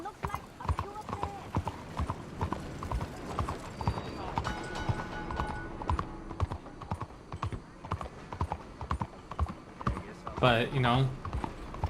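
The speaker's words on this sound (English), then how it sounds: "Very nice horse. It looks like a purebred." Horse hooves clip-clop in Red Dead Redemption 2, a steady close rhythm of hoofbeats running under someone talking, with a brief whinny rising near the end.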